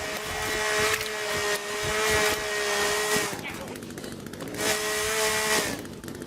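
A chainsaw in the survival game The Forest runs with a buzzing, tonal engine drone that rises and dips in two long bursts, mixed with game ambience.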